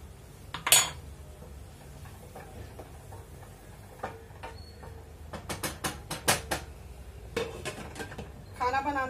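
Metal spoon clinks and scrapes against a cooking pot as boiling rice is stirred, a run of sharp close taps and clatters with quieter stretches between, in a home kitchen.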